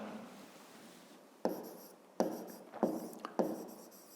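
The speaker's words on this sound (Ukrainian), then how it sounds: "Ну і записуємо площа." Hand writing with a pen or pencil on paper during a fifth-grade math exercise: a quiet stretch, then four short scratchy bursts of strokes, close and alone.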